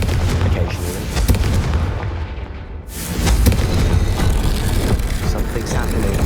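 Confringo blasting spells fired in Hogwarts Legacy, heavy booming blasts over a dense, loud game soundscape, with a brief lull before another burst; voices talk throughout.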